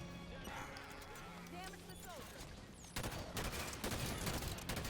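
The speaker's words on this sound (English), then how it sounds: "use the suppressor battle rifle combo to take him out" Battle rifle fire in Halo 5: Guardians comes in quick, loud bursts of shots in the second half, following quieter game sounds and chirpy tones.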